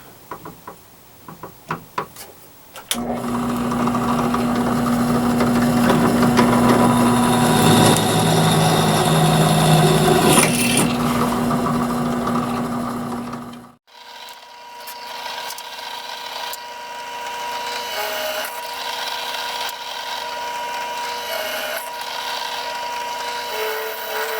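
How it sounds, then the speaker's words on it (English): A power drill boring holes whirs loudly and steadily for several seconds, then cuts off abruptly and is followed by lighter mechanical rattling and clatter. "I'm getting set up here to drill these holes."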